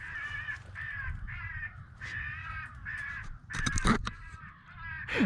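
An electronic caller plays a dying-crow recording on a dairy farm, with repeated harsh caws running continuously over a low rumbling background, and a loud clattering burst toward the end.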